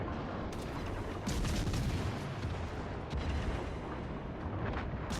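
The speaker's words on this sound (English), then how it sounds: "this is the airstrike at its finest" Airstrike bombs exploding in World of Warships Legends, heard as a continuous rumbling barrage of distant booms with a few sharper hits rising above the dense background.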